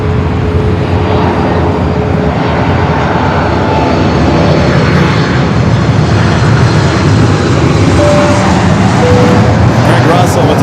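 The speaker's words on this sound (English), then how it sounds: "British Airways A380 now taxiing from London" Airbus A380 jet of British Airways taxiing at Los Angeles airport, a steady broad engine roar with a low rumble that holds at a constant loudness throughout, with people talking in the background.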